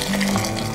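Warm milk mixed with yoghurt culture pours into a scalded thermos, a brief, close, full liquid gush and trickle.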